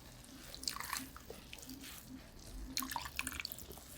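Grated coconut flesh squeezed by hand through a strainer, its liquid dripping and splattering in two wet bursts, close and quiet against a soft background, with no talking.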